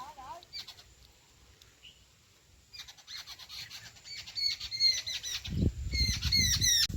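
Sharp, repeated kingfisher squawks ring out close by near its nest with eggs in a sapodilla tree, growing louder toward the end, while people talk quietly in the background.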